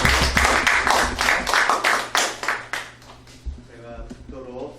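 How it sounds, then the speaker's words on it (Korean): Congregation clapping at a memorial worship service in the Eirene Hall of the Korea Christian Building, a dense burst of applause that thins out after about three seconds, with voices and faint tonal sounds continuing underneath. "다시 한번 격려와 위로의 박수 한번 하십시오."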